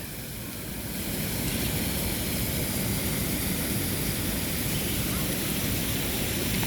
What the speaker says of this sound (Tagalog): Pero ang nagustuhan ko talaga dito ay